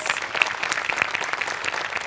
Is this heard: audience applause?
yes